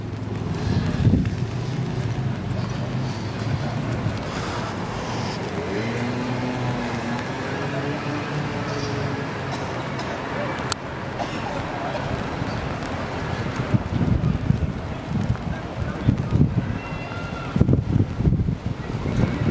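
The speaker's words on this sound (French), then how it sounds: "Sachez qu'il y a énormément de vent" Strong wind buffets the microphone in heavy, rumbling gusts, with faint traffic or street noise underneath that grows rougher toward the end.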